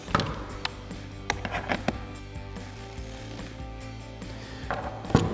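A ratchet clicks in short bursts while lock nuts are snugged down on textured black pocket-style fender flares for a 2011-2016 Ford F-250, the clicking close and loud with brief pauses between runs.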